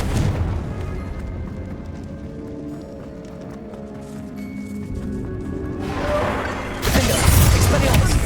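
A Confringo blasting spell from Hogwarts Legacy goes off loudly near the end, a burst of booming, crackling noise after several seconds of busy game sounds and rumbling.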